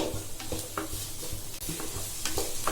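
Steady sizzling of green beans and onions frying in oil, with occasional scrapes and clinks of a utensil stirring the pan.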